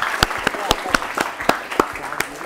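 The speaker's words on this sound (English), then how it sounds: "Let's clap for them." Audience at a school quiz competition giving a short round of applause for a team, with sparse, individually distinct claps in a steady rhythm from a modest group, under a host's voice.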